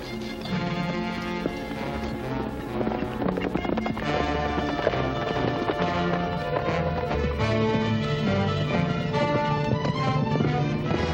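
Horses gallop with clip-clopping hooves in a 1939 western adventure serial, the rapid hoofbeats running continuously beneath a loud orchestral music score.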